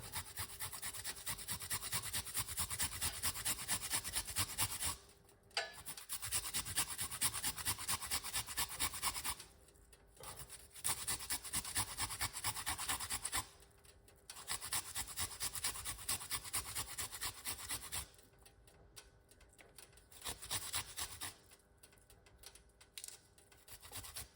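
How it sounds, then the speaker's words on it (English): A piece of fresh ginger is rasped on a grater for tea, with rapid rhythmic scraping strokes in long bursts broken by short pauses, close and alone without talk. "we're gonna grate a piece of ginger"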